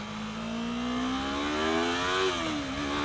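A 2015 Yamaha R3 motorcycle engine at wide open throttle, a loud, steady, rising rev heard up close that climbs for about two seconds, then dips briefly as the gear shifts before pulling again.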